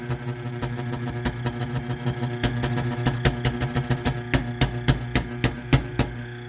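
A Eureka Mignon Oro Single Dose coffee grinder runs with a steady motor hum, overlaid by a regular series of sharp puffing taps from bellows being pumped. It is close and fairly loud, with no voices.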